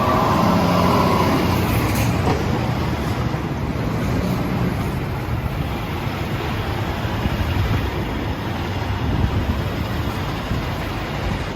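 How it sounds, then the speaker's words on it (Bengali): Road traffic and vehicle noise beside roadworks in London near Aldgate: a dense, continuous street roar with passing vehicles, steady and fairly loud throughout, with no speech. "রাস্তার মধ্যে কাজ করতেছে, জন্য শব্দ হইতেছে গাড়ির"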